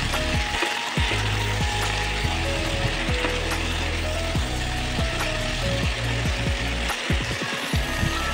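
Shredded cabbage seasoned with salt and turmeric fries loudly in a pan, a steady sizzle under repeated scraping, clattering stirring strokes close to the mic, no voices.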